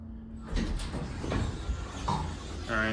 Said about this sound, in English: And the door closes when you push the button.